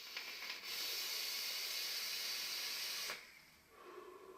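Airflow draws through an OBS Crius RTA vaping atomizer as a steady, close hiss lasting about three seconds, then cuts off into a quieter, lower breath.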